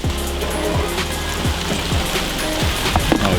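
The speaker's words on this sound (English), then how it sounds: "Oh, here comes the rain." Steady rain patters on a surface at a vehicle repair spot where a Pontiac Grand Prix GXP is being worked on, a dense continuous hiss with scattered droplet ticks and a few knocks, close and even throughout.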